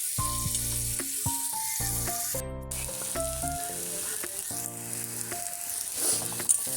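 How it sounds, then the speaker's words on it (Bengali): Prawn heads frying in a pan give a soft, continuous sizzle as they are stirred, faint beneath louder background music with distinct stepping notes. "এবার এটাকে আমি একটু নাড়াচাড়া করছি"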